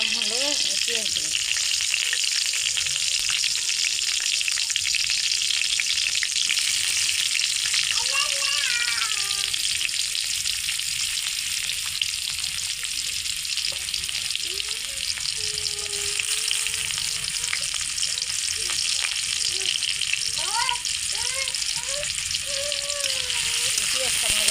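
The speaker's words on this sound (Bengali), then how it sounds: "পেঁয়াজটা ভাজা ভাজা করবো।" Onions fry in hot oil in a kadai, giving a steady, loud sizzle and crackle that runs the whole time. A voice talks briefly underneath it.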